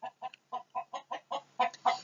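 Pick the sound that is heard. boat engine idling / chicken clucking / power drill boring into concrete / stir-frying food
chicken clucking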